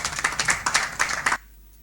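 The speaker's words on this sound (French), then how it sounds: "Nous devons l'applaudir." An audience applauds a woman honoured for founding a biodegradable plastics factory, a burst of dense clapping lasting about a second and a half before cutting off abruptly into near silence.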